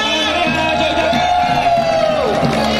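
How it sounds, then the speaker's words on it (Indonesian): Crowd at a Yogyakarta gathering cheering and clapping loudly and continuously, a dense roar of voices with a sustained shout rising over it. "kita tunjukkan kerukunan kita dengan tepuk tangan yang meriah"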